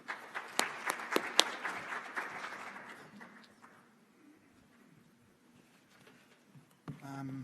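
Applause from a conference audience at an industrial efficiency conference welcoming a speaker, sharp claps that fade out over a few seconds into quiet room tone, followed by a voice starting to talk.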